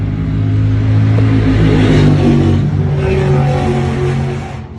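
A turbocharged race car engine revs hard at a cash race, a loud sustained close roar with shifting pitch and a hissing rush as the wastegate opens.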